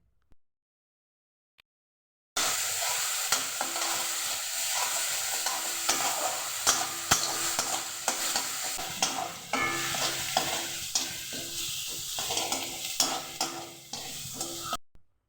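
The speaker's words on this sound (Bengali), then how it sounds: "তারপর তেলের মধ্যে দিয়ে দেব থেতো করে নেওয়া পেঁয়াজ।" Crushed onion and garlic hit hot oil after a brief silence, bursting into a loud, continuous sizzle with repeated scraping strokes of stirring throughout, and no talk over it.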